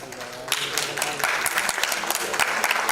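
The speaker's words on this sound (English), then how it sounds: "Big round of applause, please." Audience applause at a music video launch event, steady clapping from a crowd that swells and continues for a few seconds, loud and close.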